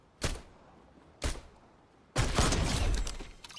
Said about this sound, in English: He's gonna break the wall, and I'm gonna fire.